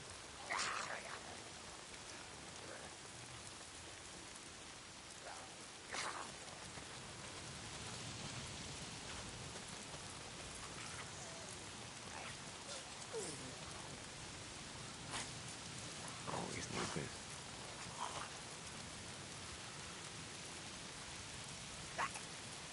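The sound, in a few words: rain falling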